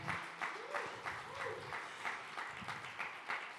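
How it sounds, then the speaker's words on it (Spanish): A church crowd applauds softly in a roughly rhythmic pattern, with pulses of clapping about every half second and faint voices and tones mixed underneath. "Denle un fuerte aplauso al Señor."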